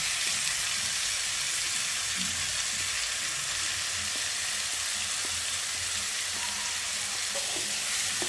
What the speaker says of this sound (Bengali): এবার এই পর্যায়ে দিয়ে দিচ্ছি ম্যারিনেট করা চিকেনটা